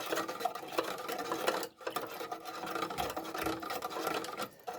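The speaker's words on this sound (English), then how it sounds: "We're going to give it a good whisk." A cornstarch slurry being whisked gives a fast, continuous, fairly quiet rattling patter that breaks off for a moment in the middle and then resumes.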